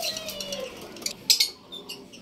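Pet African lovebirds chirp in short, sharp bursts nearby, a few bright calls over faint background noise.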